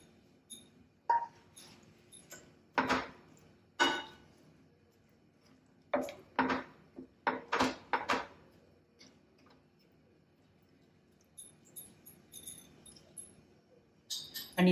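Drumstick pods dropped into a cooking pot for a Maharashtrian curry: scattered sharp clinks and knocks in uneven clusters, close by, with quiet gaps between.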